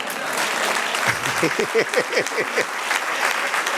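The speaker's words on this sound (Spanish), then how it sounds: "Dale un aplauso al Señor." A church congregation applauds during a Spanish-language service, a close, loud wash of clapping, while a voice speaks over it in short, rising phrases through the middle of the burst.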